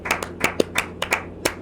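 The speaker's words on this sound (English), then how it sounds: "And clap for women." Hand clapping: about eight sharp, separate claps in a loose, uneven rhythm, close and fairly quiet, with no voices.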